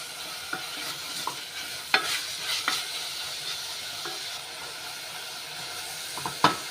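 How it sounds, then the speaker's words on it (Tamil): Chopped large onions frying in hot oil for a mutton gravy, a steady close sizzle and hiss with occasional sharp stirring scrapes and clinks of a spoon against the pan. "ரெண்டு பெரிய வெங்காயம் சின்னதாக பொடிசாக இப்படி கட் பண்ணி வச்சுக்கோங்க இந்த எண்ணெயில் ஆட் பண்ணிக்கலாம் இப்போ இல்லை நல்லா ஃப்ரை ஆகட்டும்"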